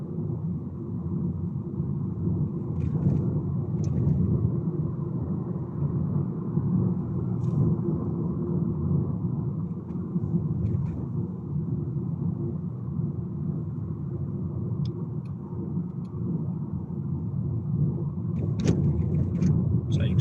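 Car driving on a quiet road in Ipswich during a driving test: a steady low engine and tyre rumble from inside the cabin, continuous and even, with a few faint clicks over it.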